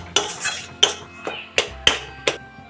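A spoon clinks repeatedly against a pot while spices are stirred into a mashed potato filling, with about six sharp metallic knocks at a steady rhythm, close and clear, with no talking.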